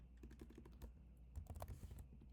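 Computer keyboard being typed on at close range, quick uneven clusters of soft key clicks with short gaps and a final burst of presses, quiet and with no talk.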